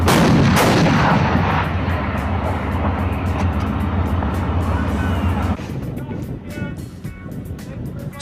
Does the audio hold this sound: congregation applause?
no